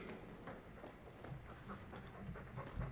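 Mabari hound panting in Dragon Age 2, a faint rapid rhythmic breathing close by, repeating steadily for a few seconds.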